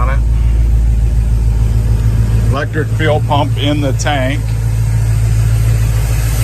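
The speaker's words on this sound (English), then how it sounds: "Got good sounding dual exhaust on it." A muscle car with a 351 engine and dual exhaust idles in a steady, deep rumble throughout, while someone talks over it partway through.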